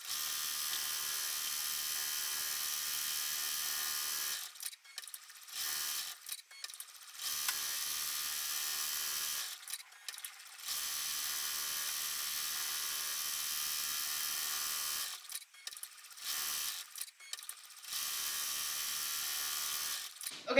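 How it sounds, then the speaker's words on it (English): Ricoma EM1010 embroidery machine sewing a tack-down stitch on appliqué fabric, a steady high mechanical whir and rapid needle clatter running in long stretches broken by several short pauses. "now it's gonna do our tap down stitch to keep this fabric in place"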